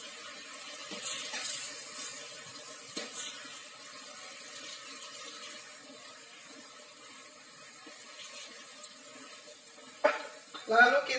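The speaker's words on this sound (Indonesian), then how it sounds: "Kita tambah air lagi. Cara menambah airnya adalah sedikit demi sedikit." Water is poured little by little into a cooking pot of spicy-sour squid, with a faint trickle, soft sizzling and stirring, ending in a couple of louder splashy pours.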